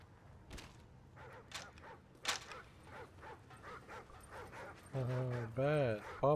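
Attack dogs in the MW3 Survival video game bark, yip and whimper in a rapid, scattered series, ending with longer strained yelps, heard over faint game ambience.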